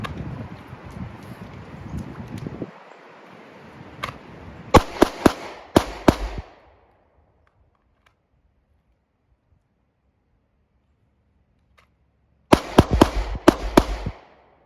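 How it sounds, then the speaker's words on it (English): Handgun shots fired at an outdoor shooting range during a Mozambique drill: a fast burst of four sharp cracks, a long quiet pause, then another tight cluster of about five shots, loud and close over light wind noise. "I started shooting above the target on both the torso and in the top of the target."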